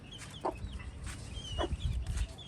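An injured mother hen clucks softly a couple of times at close range, amid low rustling and faint chick peeping in the background.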